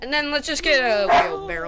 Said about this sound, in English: I wish my dog would stop barking.